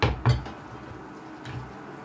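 A utensil stirs ham into a homemade dish, giving a couple of sharp clinks against the pan near the start, then softer scraping and a faint tap.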